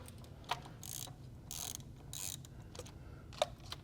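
Close mechanical ratcheting from a wrench loosening a 10 mm bolt on a BMW B58 engine's water pump, with a few short rasping bursts and sharp clicks over a low background hum, no speech.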